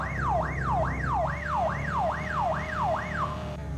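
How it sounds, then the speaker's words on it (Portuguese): A police car siren in a driving video game, set on a lowered-car online chase map, wails up and down in a steady rising-and-falling cycle, loud and close over a low rumble of engine noise, with no talking. "Deixa eu ligar minha sirene aqui"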